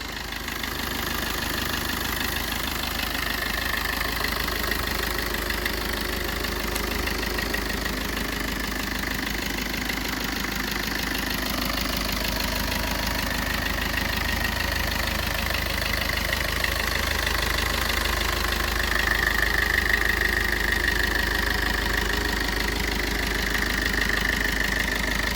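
A Maruti Vitara Brezza diesel engine idles steadily with a low, even rumble and a slight knocking clatter, close and continuous throughout with no speech.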